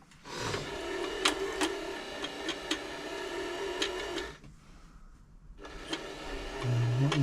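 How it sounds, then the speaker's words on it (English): An Elna 3007 sewing machine winding a bobbin gives a steady close whirring hum with faint ticks, breaking off briefly partway through before the motor runs up again. "Just wind that onto there. Okay, push the bobbin winder across."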